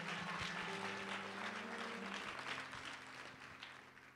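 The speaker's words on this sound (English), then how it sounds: "Let's clap hands for the Lord." Hands clapping in unison at a church service while a sustained musical tone or organ holds beneath, steady and loud throughout, softening slightly toward the end.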